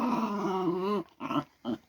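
A dog growls low and close, one long sustained rumble followed by two shorter growling bursts.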